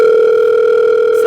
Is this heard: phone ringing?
yes